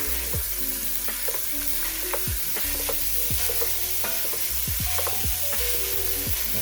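Ground beef frying in a Dutch oven over browned fond, a loud continuous sizzle broken by repeated scraping and tapping as a utensil breaks up and stirs the meat, close up and without speech.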